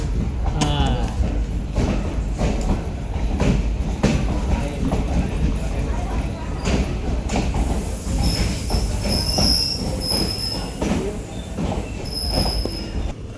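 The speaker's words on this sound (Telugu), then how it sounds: "1 నిమిషం హాల్ట్ తర్వాత మన ట్రైన్ తిరిగి బయలుదేరింది." A passenger train travelling from Basara to Kachiguda rolls steadily along the rails after a station halt, with a continuous loud rumble, rhythmic wheel clatter and occasional higher squeals close by.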